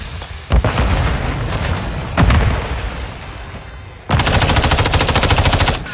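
Rapid automatic gunfire in Call of Duty: Modern Warfare 3 multiplayer Search and Destroy, loud and close, with two heavy booming shots early on and then a sustained, evenly rattling burst near the end.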